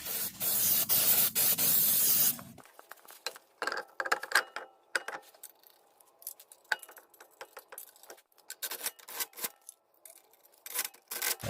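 Brake cleaner sprayed onto the big brakes of a 2016-or-later Honda Civic Type R: a loud, steady aerosol hiss in short bursts for about two seconds, then quiet clinks and rubbing handling sounds.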